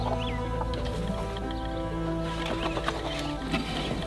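A Cochin hen clucks among other fowl in a coop, low murmuring clucks and soft calls layered over a steady background, fairly close with no talking.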